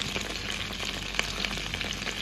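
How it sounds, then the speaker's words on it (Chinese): Meat-stuffed long green chili peppers pan-fry with a steady, close, even crackle of hot oil, continuous and without voices. "再煎至两分钟。"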